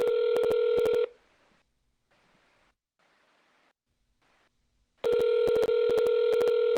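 A telephone call is dialed with bursts of keypad tones, followed by a quiet stretch of faint ringing, then another burst of dial tones. The tones are sharp and clear.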